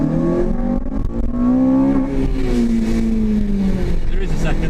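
A Honda Civic Type R out on a drive, its engine note climbing and falling through smooth revving sweeps. The car sounds close and loud and holds steady throughout.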